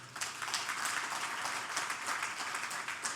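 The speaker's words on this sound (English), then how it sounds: "So I think he deserves a big round of applause" A conference audience at an accounting event applauds steadily, dense continuous clapping from many hands that fills the whole stretch at an even level without pauses.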